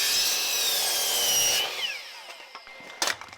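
Power saw cutting a 2x4 wood stud for interior framing of a shipping container home, a loud high whining cut that stops abruptly, then the blade spins down with a few knocks of wood being handled.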